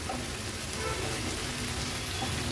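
Spicy prawn thecha stirred in a pan over high flame, a continuous dense sizzle and crackle of frying with no pauses.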